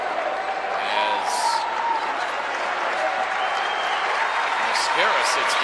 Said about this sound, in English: nice round of applause from the appreciative home fans